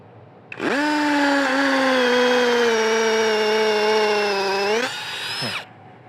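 A Masaru SCDI-105 cordless impact drill bores into concrete: a loud, close whine starts abruptly, holds a steady high-pitched drone for about four seconds, then drops slightly before cutting off.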